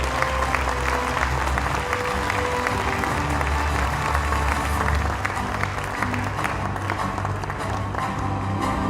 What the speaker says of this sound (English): Ladies and gentlemen, please give her a big round of applause.